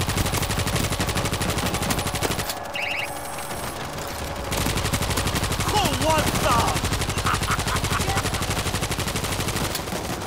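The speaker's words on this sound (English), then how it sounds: "Open fire, Panda." Sustained automatic gunfire from the World War Z video game, dense and continuous over nearly the whole stretch, with a short lull midway; faint voices sit beneath the shooting.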